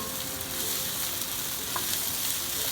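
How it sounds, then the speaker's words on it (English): Brussels sprouts sauté in a pan over high heat, giving a steady, close, continuous sizzle and crackle with no voices. "So we're going to saute this for about 7 minutes"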